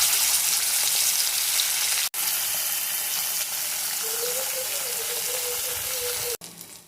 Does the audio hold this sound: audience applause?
no